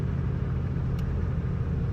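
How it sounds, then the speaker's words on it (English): A turbocharged Mazda Miata NB's engine hums low and steady while cruising on the street, a constant road rumble with no voices. "Car's cruising."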